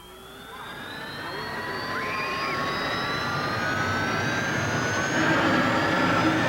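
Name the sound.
gold-plated jet dragster engine running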